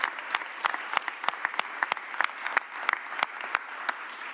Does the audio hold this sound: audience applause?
yes